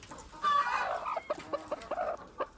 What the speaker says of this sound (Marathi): पहिले दोन कोंबड्या खोड होते आता तीन कोंबड्या झाल्या